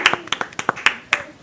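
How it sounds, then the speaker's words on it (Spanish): Sparse clapping from a small audience welcoming a guest at a church gathering, a handful of distinct, close hand claps in an irregular rhythm over a brief moment. "Un aplauso para Faría, Faría."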